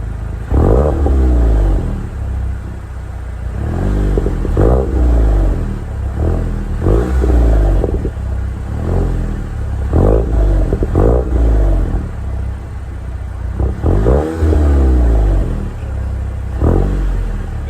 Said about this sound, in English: There's a 2-liter TSI Volkswagen 4-cylinder engine, and it's a turbocharged engine basically